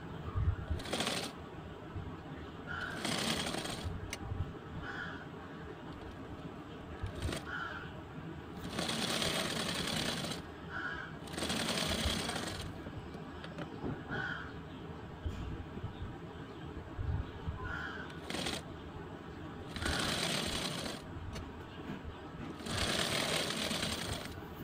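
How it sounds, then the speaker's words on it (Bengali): A sewing machine stitches the neck fabric of a lined blouse in repeated bursts of steady mechanical whirring, each a few seconds long, separated by short pauses, close and moderately loud. "গলার কাপড়টা সেলাই করে দিচ্ছি।"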